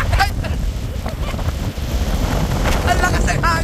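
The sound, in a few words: strong wind on a hilltop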